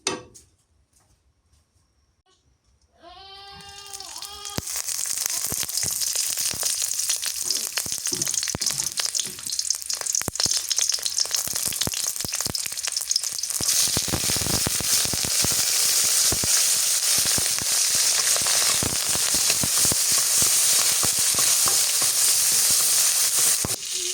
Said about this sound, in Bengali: এদিকে মরিচ আমি কড়াইয়ে দিয়ে দিছি আর মরিচটাকে ভালো করে ভেজে নিই।